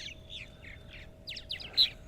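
Purple martins on eastern Long Island, New York, chirp and gurgle in a quick series of short, bright calls, faint at first then a little louder and busier, over a steady low hum.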